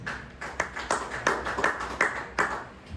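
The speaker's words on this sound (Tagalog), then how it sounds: "Palakpak ang buhi nga Dios." Claps from a Sunday school congregation in church, about eight separate, fairly evenly spaced claps, close and moderately quiet, with no other sound between them.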